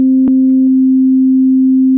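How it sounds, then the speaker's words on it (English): An FL Studio wavetable synth holds a steady pure tone at C5 with a second layer at C6 sounding together briefly, then leaves a single sustained sine-like note, clean and loud with no voice. "it sounds like we're playing C5 and C6 at the same time"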